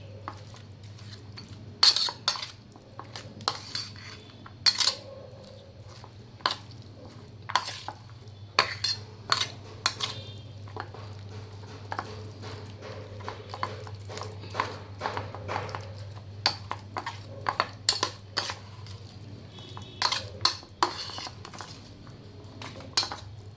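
Roasted eggplant mashed together with salt for baingan bharta, clinking and scraping steadily in a bowl under a constant low hum, with occasional sharper taps and no voices.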